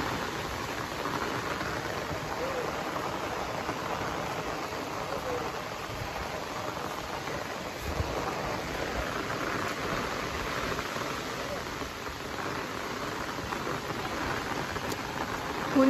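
Steady rain falls outdoors at a resort, a continuous even hiss of drops on surfaces filling the whole stretch, with faint rumbles beneath.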